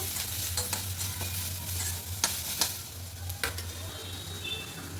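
Grated coconut roasting in a pan with coriander leaves, garlic and cumin, a constant close frying hiss with irregular sharp spoon scrapes and taps through the clip, no voices.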